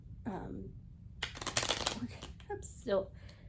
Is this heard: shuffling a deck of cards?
yes